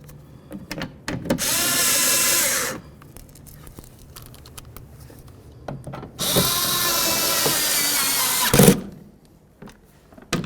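A power tool with an 8mm socket drives bolts into the window regulator of a 2008–2012 Jeep Liberty, whirring close up in two sustained bursts of about a second and a half and two and a half seconds, separated by quiet handling noises.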